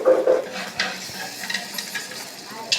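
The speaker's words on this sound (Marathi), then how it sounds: "आमचा आचारी ढवळतोय" A cook stirs peas, onion and tomato frying with spices in oil in a pan: a few close scrapes and knocks of a utensil over a gentle sizzle, with a voice briefly audible.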